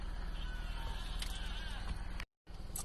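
Goats bleat in a quavering, continuous chorus close by, with a brief cut to silence near the end.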